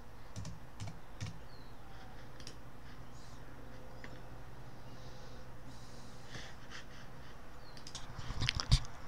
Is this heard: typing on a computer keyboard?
yes